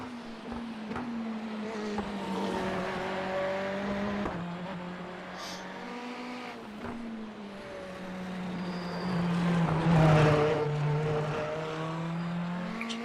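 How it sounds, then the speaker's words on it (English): Loud, droning race car engine in the sim racing game iRacing, a steady harmonic whine that rises and swells around the middle, running continuously without talk. "Great noisy car, isn't it?"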